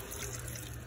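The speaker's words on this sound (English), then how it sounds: "Then you're going to add 2 cups of your water." About two cups of water stream into a cooking pot while chickpeas with potatoes and kale are prepared, a faint, brief, steady splashing trickle.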